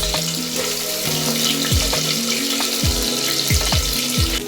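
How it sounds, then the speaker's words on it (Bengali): Shrimp frying in oil inside a pressure cooker, a steady loud sizzle with bubbling crackle running throughout, under a recurring musical tone. "প্রেশার কুকারের মধ্যে চিংড়ি মাছগুলো ভেজে নেওয়া হবে"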